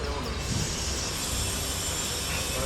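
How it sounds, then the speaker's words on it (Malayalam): A train on the Konkan Railway creeps slowly across a bridge and comes to a halt, with a steady, dense rumble and hiss of wheels and carriages close by. "ഇതാ പാലത്തിൻ്റെ മുകളിൽ ട്രെയിൻ നിർത്തിയല്ലോ."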